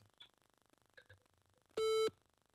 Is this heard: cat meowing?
no